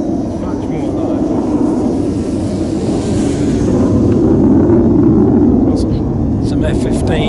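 A Volantex SonikRC Corsair RC plane flies in mid mode, its motor giving a loud, steady droning buzz that holds throughout with only slight swells in intensity.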